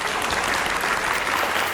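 A crowd at an MC school event in Surabaya claps loudly and steadily, a dense continuous wash of applause.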